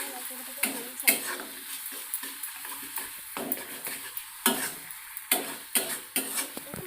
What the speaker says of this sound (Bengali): ভালো করে আমি কষে নেবো যতক্ষণ মশলা থেকে তেল ছাড়ছে